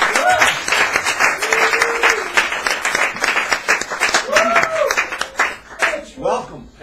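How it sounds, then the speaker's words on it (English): An audience at an open mic at Sacred Grounds Cafe in San Francisco breaks into a burst of clapping and applause, close and lively, while a voice talks over it. "So give a big round of applause for Keith,"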